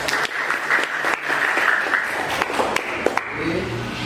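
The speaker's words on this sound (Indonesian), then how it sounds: "Tepuk tangan." A class of students claps together in a classroom, a steady dense patter of hands with a few sharper individual claps standing out near the end.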